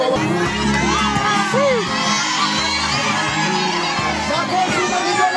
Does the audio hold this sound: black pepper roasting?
no